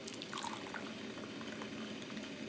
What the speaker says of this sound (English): let's pour it into our Gongda Bay